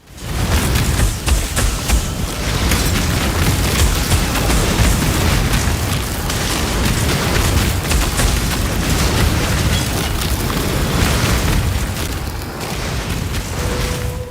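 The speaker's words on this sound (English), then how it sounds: "A lot of explosions going on here." Rapid, continuous explosions and bursts in the action game Path of Exile form a loud, dense barrage that barely lets up.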